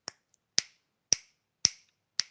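Five crisp finger snaps ring out close to the microphone, spaced about half a second apart, with nothing else heard between them.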